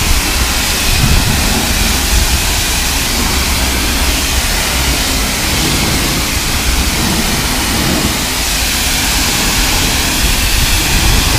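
High-pressure water rinse spraying a car at a drive-up car wash, a loud, steady broadband hiss and roar that continues without a break throughout, close and unaccompanied by speech.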